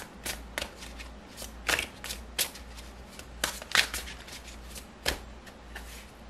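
Tarot cards are shuffled by hand in a steady run of crisp riffling bursts and soft slaps, close and clear, with no talking over them.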